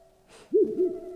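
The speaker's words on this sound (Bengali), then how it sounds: "বাইরে কোথাও যেন একটা কোকিল ডেকে উঠল" After a short rustle, a bird gives two hollow, hooting calls in quick succession, fairly close and loud against a quiet background.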